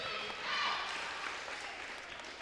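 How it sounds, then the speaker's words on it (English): Steady, dense clapping from a small editing team, swelling briefly near the start and then holding at an even level with no voices over it. "Got some claps from our editing team."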